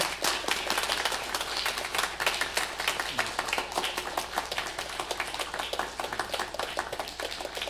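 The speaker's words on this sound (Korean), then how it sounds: "큰 박수로" Church congregation applauding during a Sunday worship service to welcome a baby, a steady crowd of clapping hands, fairly even and sustained, with no talking over it.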